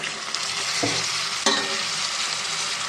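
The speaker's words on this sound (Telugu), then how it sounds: "ఇవి కూడా బాగా ఫ్రై అవ్వాలి ఇవి నూనెలోనే బాగా ఫ్రై అవ్వాలండి" Cut broad beans frying in hot oil, giving a dense continuous sizzle with a couple of brief scraping stirs, heard close and loud without speech.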